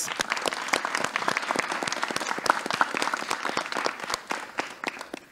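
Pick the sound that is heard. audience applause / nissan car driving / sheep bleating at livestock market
audience applause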